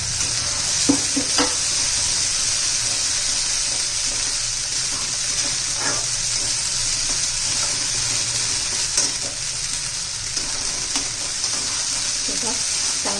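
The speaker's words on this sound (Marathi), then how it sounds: "तेल सुटेपर्यंत आपण परतून घेऊया मसाला" Masala for misal sautéing in oil in a pan, a loud, constant sizzle with occasional scraping stirs and clinks, up close throughout.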